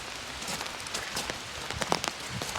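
Steady rain patters on surfaces outdoors at Elkmont, a dense, even hiss of falling drops with a few sharper splashes standing out near the middle, no voices present.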